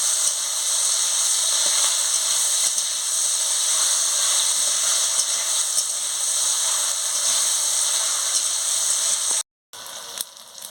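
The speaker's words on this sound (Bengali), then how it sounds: "চালটাকে দিয়ে ভালো করে নাড়িয়ে নিচ্ছি।" Elephant apple and rice frying and being stirred in a pan, a steady bright hissing sizzle that runs continuously, with a brief cut near the end.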